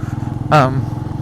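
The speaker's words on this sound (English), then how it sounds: "for a cheap sort of slash cut silencer, it does create a really nice rumble." Royal Enfield Meteor 350 motorcycle fitted with a cheap slash-cut silencer, its exhaust giving a steady, low, pulsing rumble throughout, with a brief louder voice-like burst in the middle.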